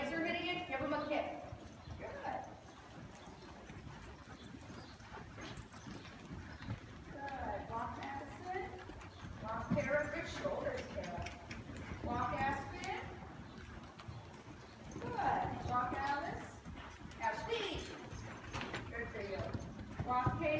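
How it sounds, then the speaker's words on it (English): A horse trots in an arena during a riding lesson, its hooves clip-clopping in a steady rhythm. An instructor speaks over the hoofbeats, and the sound swells and fades as the horse passes nearer and farther. "You just keep trotting him."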